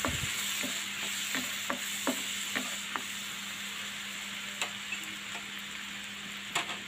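Spices, chili powder and vinegar stirred in a pan for raw mango pickle, with a soft steady sizzle under a series of sharp spoon taps and scrapes against the pan, close and without talk.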